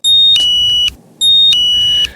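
A SpotOn GPS dog collar gives its gentle alternating alert tone, two bright two-pitch beep pairs in a row with a short gap between, loud and close with no other sound.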